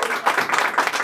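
Crowd applause for a mariachi band at a birthday celebration, a short, steady burst of many hands clapping at close range.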